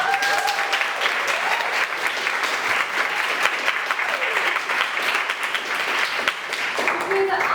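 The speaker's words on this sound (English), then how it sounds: "Can we give them a round of applause?" A theatre camp showcase audience applauds in a dense, sustained wash of clapping that stays loud and even throughout.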